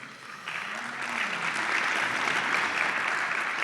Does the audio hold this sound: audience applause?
yes